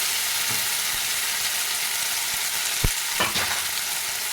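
Green mung dal paste fries in a pan with curry leaves over a low flame, a steady close hiss broken by a few soft scraping stirs, with no talking.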